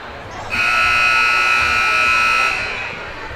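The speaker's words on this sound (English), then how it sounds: "you're about to hear a buzzer." A loud electronic buzzer blares in one long steady tone for about two seconds over the murmur of a crowd at a high school volleyball game.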